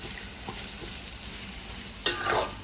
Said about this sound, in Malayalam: സവാള നന്നായിട്ട് നമുക്ക് വഴറ്റിയെടുക്കാം